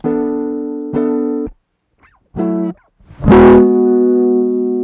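Electric guitar through saturator distortion rings out in separate bursts with gaps between them, ending in a strummed, gritty sustained chord.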